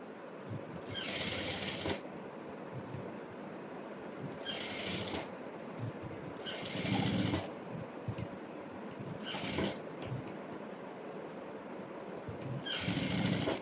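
Short bursts of sewing machine stitching on saree fabric being made into a lined maxi dress, five separate runs of a second or so each separated by quieter handling noise.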